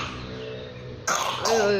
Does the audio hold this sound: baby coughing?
yes